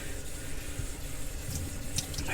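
Cold water running from a kitchen tap, a steady close hiss and splash that holds without a break.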